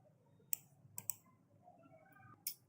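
A few crisp keyboard clicks tap out near a computer, with sparse keystrokes spaced apart in a quiet room.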